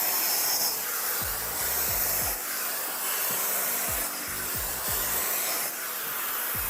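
A Neakasa Magic 1 portable vacuum garment steamer runs steadily on clothing, a loud continuous hissing whoosh with repeated low sweeping pulses as it passes over the fabric.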